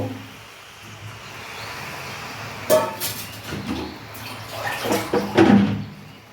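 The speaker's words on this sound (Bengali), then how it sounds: "আমি এখন জল দিয়ে দেবো" Water is poured from a vessel into a pan of fish shukto on the stove, making short splashing bursts that break out of a quiet kitchen hum, then a second, longer pour near the end.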